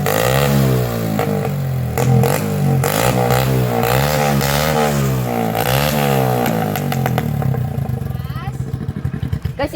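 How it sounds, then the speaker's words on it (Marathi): Hero Honda CD 100 motorcycle engine revving near and loud, its pitch rising and falling in repeated sweeps before settling into a rough, sputtering idle, with voices talking over it. "मग मी गाडीला रेस करतो"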